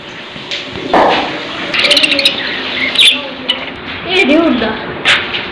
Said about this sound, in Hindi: हमारे पास भी कबूतर आए।